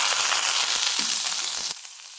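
Onions fry in a little oil in a pan with mustard seeds, curry leaves and dried red chillies, giving a steady close sizzle that cuts off abruptly near the end, leaving quiet.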